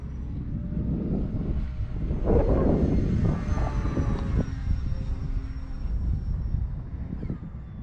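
RC model Tecnam airplane climbing and flying overhead, its motor whining and shifting in pitch as it passes, with wind noise and a fuller surge of sound in the middle, no speech.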